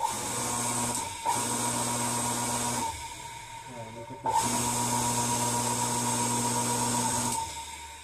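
Repaired Marflo Jet-100 water pump motor running in bursts, a steady electric hum and whine that starts, stops briefly, then spins up again; close and fairly loud, with a short pause of quieter mechanical noise between runs.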